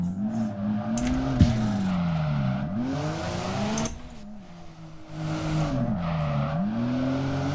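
A drift car in the DRIFT21 racing game revs up and down through its gears, its engine droning and wavering, with a few sharp popping bursts over the tire noise.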